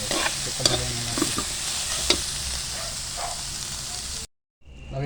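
Pork and vegetables fry in a pan with a loud, dense sizzle and a few clinks of stirring, cutting off abruptly near the end before the sizzle faintly resumes.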